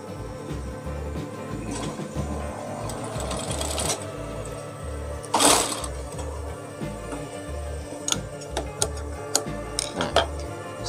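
Sewing machine stitching and backstitching a fabric cuff, a steady run of rapid mechanical pulses broken by short pauses and clatters as the stitching stops and reverses.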